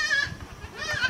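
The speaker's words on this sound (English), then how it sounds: "these boys are learning how to care for baby goats" Baby goats at a farm in Zambia bleat in two close, wavering cries, one at the start and another near the end, over a faint background murmur.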